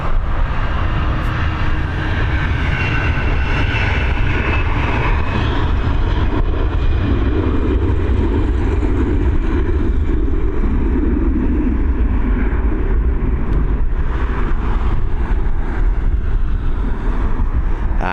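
An airliner takes off from Dublin Airport bound for Lanzarote, a loud, steady engine roar that swells and rumbles with wind buffeting the microphone, continuous for the whole stretch, with no talking.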